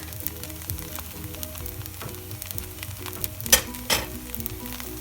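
Egg sizzling as it hits a hot pan of chicken fried rice, a steady frying crackle with a couple of sharper spatters, close and alone.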